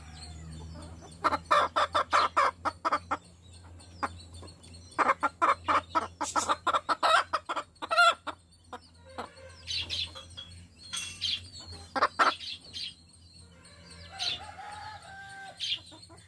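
Adult chickens around three months old cluck and squawk in rapid repeated bursts, with a louder run of calls near the start and scattered softer clucks and a wing flap later, close by on a farm with no talking.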